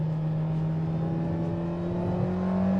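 A Mercedes-AMG GT63 engine accelerating on a proving ground track, a steady, loud low drone from the engine that holds throughout, heard close from inside the car.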